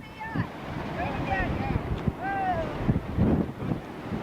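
Hurricane wind and churning ocean waves at the Seven Mile Bridge in the Florida Keys during Hurricane Irene in 1999: a steady, close roar of wind buffeting the microphone over surf, with people talking throughout.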